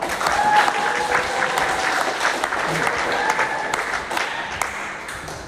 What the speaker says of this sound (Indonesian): Sekali lagi beri tepuk tangan kepada beliau.